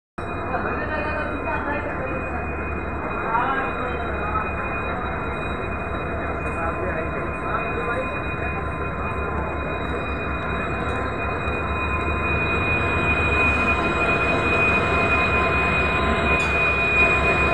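Passenger train hauled by a WDP4D diesel locomotive moving through Dehradun railway station, a continuous heavy rumble of rolling wagons with wheel squeal and clatter, steady and close, gradually building louder toward the end.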